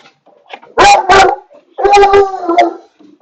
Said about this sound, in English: What are you barking at, you dumbass?